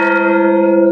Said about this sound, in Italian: mentre sentite i rintocchi poderosi qui accanto